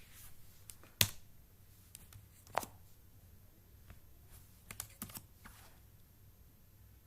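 Sparse, crisp clicks from a computer keyboard being tapped in short bursts and single strokes while entering data in Tally Prime accounting software, close and fairly quiet.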